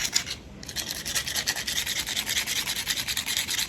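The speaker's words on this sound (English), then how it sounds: "So that way we can take some sandpaper" Sandpaper rubbed back and forth over a steel lock spring, a steady, rhythmic rasping scrape close by, with a brief pause near the start.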